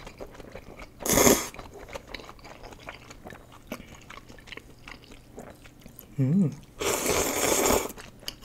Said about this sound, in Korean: 면을 한번 먹어볼게요